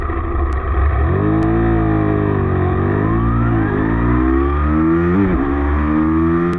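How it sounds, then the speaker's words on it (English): A 659cc, 95 horsepower parallel twin motorcycle pulls hard through the gears, the engine note rising and dropping in steady sweeps, loud and continuous. "Let me show you how this 659cc 95 horsepower parallel twin engine performs in the real world."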